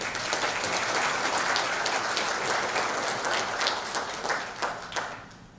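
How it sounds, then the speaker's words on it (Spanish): Audience applause at an evening legal lecture on corruption and whistleblower protection, dense steady clapping from a full room that fades out toward the end. "a quien recibimos con un fuerte aplauso"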